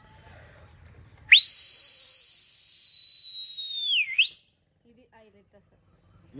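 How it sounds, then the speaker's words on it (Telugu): A loud, piercing finger whistle blown in a village, one sustained shrill tone lasting about three seconds that holds steady then drops sharply at the end, with quiet rustling before and after. "అందుకనే విజిల్ ఎక్కువ వస్తుంది నాకు"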